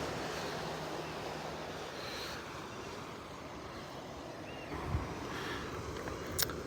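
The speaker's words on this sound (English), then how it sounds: "most of us can agree that the ocean is pretty peaceful" Ocean waves on the Northern California coast near the San Andreas fault make a steady, broad wash of surf with some wind. Occasional soft thumps break the constant roar, and no voices are heard.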